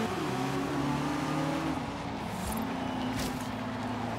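A BMW M4 Horizon Edition engine in Forza Horizon 3 drones steadily and loudly, its tone rising and dipping through gear changes as the car drives on, with no talk over it.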